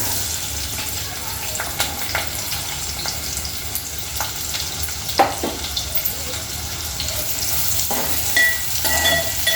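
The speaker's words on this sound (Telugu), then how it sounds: "ఆయిల్ వేడైందండి. ఉల్లిపాయలు వేసేసుకుందాం." Sliced onions sizzle and crackle steadily in hot oil in a pan, a continuous close frying hiss with occasional stirring clinks and soft scrapes.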